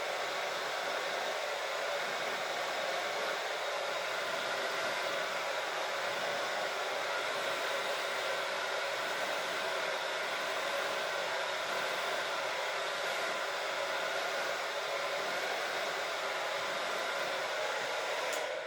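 A hair dryer set to low heat and low airflow blows steadily while fine hair is brushed out with a vent brush, a continuous even whoosh that holds at the same level throughout with no voices.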